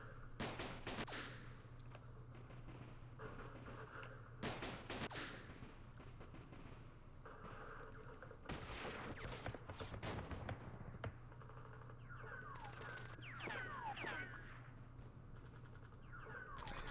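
Direct-fire gunfire in the Campaign Series Vietnam war game: separate bursts of crackling rifle and machine-gun fire, each lasting about a second, set over a steady low hum, with quieter gaps between them.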